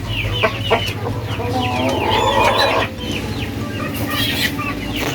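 Black standard Cornish chickens clucking on a farm, with repeated close, loud clucks and squawks over a steady low background hum and a little distant talk.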